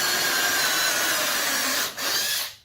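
An electric drill at full speed bores a dowel hole into wood through a drill jig, a loud, steady whine with a brief dip near the end before it winds down to silence.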